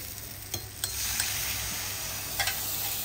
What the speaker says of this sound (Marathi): आता याच्यामध्ये मी टाकते हा वाटणचा पाणी टाकते.